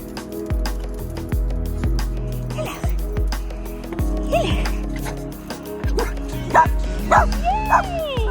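A happy puppy barks and yips repeatedly at close range, with excited whimpers and whines between the barks over a steady background hum.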